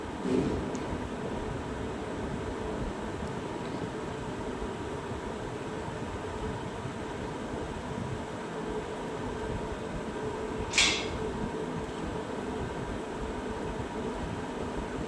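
A sewing machine stitches the seam of a salwar for a school uniform, running at a constant speed with an even mechanical whir and hum for about fifteen seconds. There is one brief sharp click near the end, and no speech.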